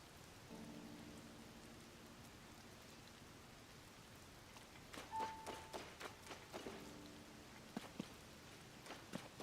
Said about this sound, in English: I'm just waiting for it to stop raining.